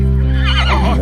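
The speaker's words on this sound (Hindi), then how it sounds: "ये घोड़ा काफी अड़ियल है" A stubborn, restless horse being held by several men lets out a loud, close neigh that rises into a long, wavering whinny, strong and clear over a steady low hum.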